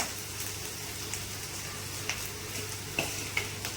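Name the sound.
rice being stir-fried for Chinese fried rice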